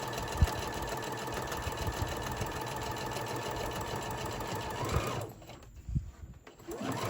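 A sewing machine stitches a lined Santa sack, running in a fast, steady whir for several seconds, then slowing and pausing before restarting, close and alone without talk.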